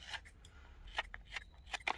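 Large scissors snip through paper in a handful of short, crisp cuts spread unevenly across a quiet moment, close and fairly soft, with no talking over them.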